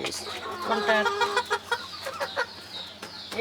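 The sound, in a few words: rooster clucking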